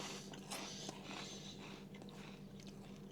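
Someone eats ASDA limited edition Vindaloo maize snacks shaped like goalie gloves, giving quiet, close crunching and chewing bites in an irregular rhythm with no talking.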